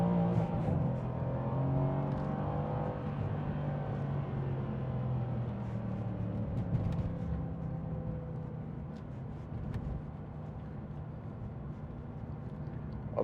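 A 2016 Mercedes-Benz C63 AMG with its 4.0-litre V8 BiTurbo engine rumbles low and then revs, its deep tone rising and falling in smooth sweeps, heard fairly quietly and steadily without talk.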